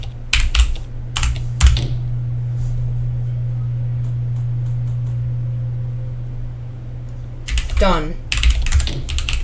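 Bursts of rapid key clicks on a computer keyboard while commands are entered for a crypto mining rig update, with a steady low hum beneath, a pause in the middle, and a brief spoken word near the end.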